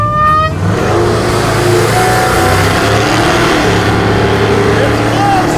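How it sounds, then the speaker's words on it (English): Muscle trucks accelerate hard in a drag race, engines roaring loud and close with rising revs that hold steady across the run, under faint voices. "Went from autocrossing to drag racing, and now I'm in a truck I never even worked on."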